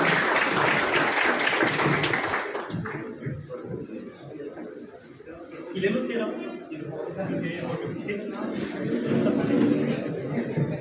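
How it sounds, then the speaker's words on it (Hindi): An audience at a coaching class function welcomes a guest with applause, a dense burst of clapping that fades after a few seconds into chatter and murmuring voices with renewed clapping later. "तो एक बार तालियों के साथ एक बार फिर से इनका स्वागत किया जाए।"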